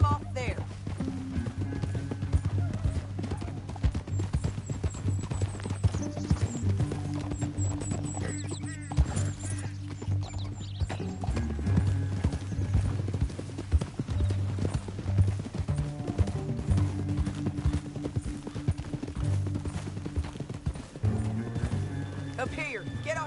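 Horses gallop with a steady clip-clop of hooves in Red Dead Redemption 2, running under a dense game soundtrack and spoken dialogue throughout.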